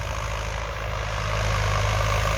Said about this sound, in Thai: เดี๋ยวพาพี่น้องมาเบิ้ง รถไถหน้าฟอร์ดยุกล่องครับ